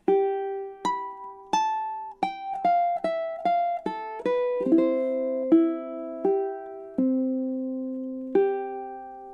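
Solo ukulele plays the last stanza of the opening melody of Chopin's Nocturne Op. 9 No. 2, plucked notes with a quicker run in the middle and slower ringing notes toward the end, heard up close.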